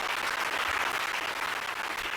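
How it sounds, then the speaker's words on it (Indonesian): An audience at an academic conference in East Java applauds steadily, a dense sustained clapping from many hands throughout with no voices over it. "Tepuk tangan semuanya."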